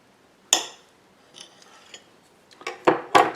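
Knife slicing through a beet-pickled egg on a plate, a sharp clink at the start followed by soft scraping and then several louder utensil clinks near the end, close and alone.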